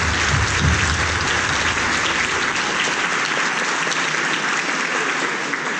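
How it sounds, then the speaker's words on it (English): A full audience at an architecture talk gives a big round of applause: dense, even clapping from many hands that holds steady throughout, then begins to thin slightly at the very end. "I'd like to ask you to give them a big round of applause."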